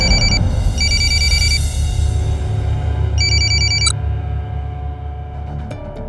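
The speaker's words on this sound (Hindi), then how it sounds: "गुंजन प्लीज मेरा फोन उठाओ, नहीं तो मैं वहां आ जाऊंगा।" A telephone ringtone rings in repeated electronic bursts, loud and close, over a steady low rumble of background noise, with no voices.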